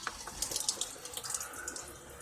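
Water runs from a kitchen tap while someone cooks meatloaf and potatoes, a faint splashing stream with small irregular spatters and drips, no voices.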